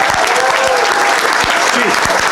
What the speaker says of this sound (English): Let's give a round of applause to our new detective.